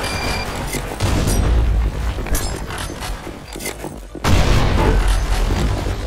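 Sustained spray fire from a gun in an online shooter game, heavy booming bursts running continuously at high volume with a brief drop before resuming.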